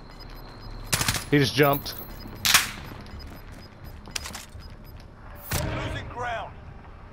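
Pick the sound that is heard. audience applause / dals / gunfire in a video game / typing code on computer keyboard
gunfire in a video game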